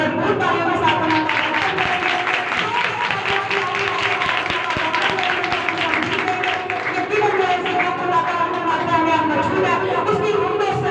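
Steady applause from a crowd at a Friday evening church ministry meeting in Pakistan, dense clapping sustained for the whole stretch with voices mixed in.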